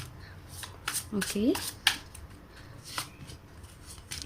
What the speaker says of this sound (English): let me just shuffle all the cards first